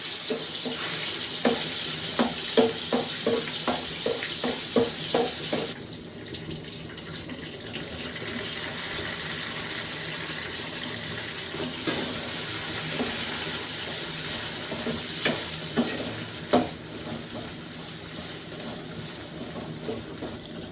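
Onion, tomato, ginger-garlic paste, mint and chilli powder fry in a pan for a gravy, a steady sizzle with rhythmic stirring scrapes, quieter partway through.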